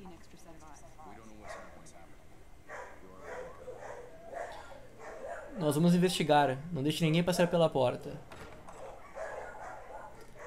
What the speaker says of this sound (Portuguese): lamento aí pela cachorrada no fundo latindo